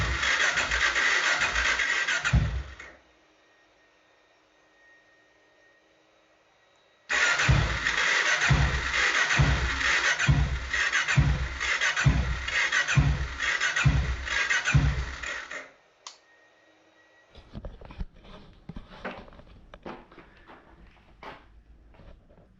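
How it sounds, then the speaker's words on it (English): A Honda Dominator 650 motorcycle engine cranks repeatedly in two long bursts of rhythmic, chugging starter turns without catching, separated by silence, followed by quieter mechanical rattling and clicks, close and loud. "Any suggestions why the engine is not starting?"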